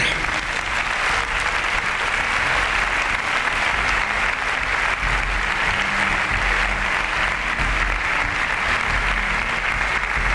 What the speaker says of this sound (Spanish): Demos un aplauso a nuestro Señor.